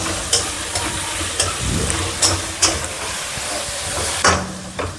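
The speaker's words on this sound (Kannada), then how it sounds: "ಚೆನ್ನಾಗಿ ಬೇಗ ಫ್ರೈ ಆಗುತ್ತೆ ಈರುಳ್ಳಿ ಎಲ್ಲ" Onions frying in a pan while cooking a village-style country chicken curry, a steady close sizzle and hiss with occasional sharper scrapes and clinks of stirring.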